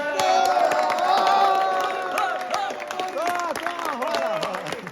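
Wedding guests clap and cheer in a lively crowd, with whoops and raised voices over steady applause that swells and then thins a little toward the end.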